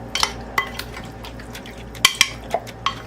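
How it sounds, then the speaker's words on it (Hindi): Spoon stirring chicken biryani marinade with potatoes in a bowl, giving several sharp clinks and scrapes against the dish with wet squelching between them, close and fairly loud with no talking. "इसको अच्छी तरह से मिक्स करेंगे"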